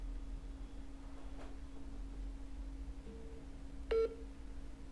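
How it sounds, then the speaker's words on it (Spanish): Phone call being placed through Siri, a faint brief tone followed by a short, louder dialing beep near the end, close up over a steady low hum. "Llama al hermano de Albert."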